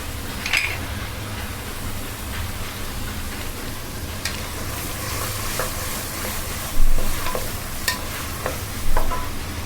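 Vegetables for veg biryani frying in a pan and stirred, a steady close sizzle with occasional scraping clinks of the spoon against the pan.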